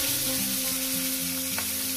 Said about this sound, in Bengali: এইভাবে হালকা হালকা সুন্দর করে একটু লাল লাল করে ভেজে নেবেন